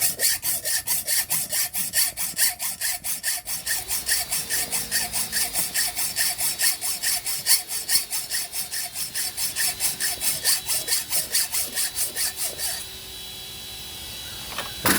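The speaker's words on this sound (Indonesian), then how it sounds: "Nah, ambil gergaji besi, potong." Hacksaw cutting through an air rifle part, a fast steady back-and-forth rasp of strokes repeating close up for most of the duration before stopping briefly at the end.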